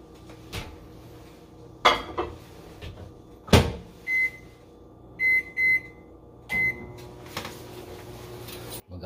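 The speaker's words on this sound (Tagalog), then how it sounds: "So, iinit lang natin to sa microwave" A kitchen microwave oven reheats leftover rice, with clattering dishes and cupboard knocks followed by a run of short electronic beeps, all fairly faint and without talk.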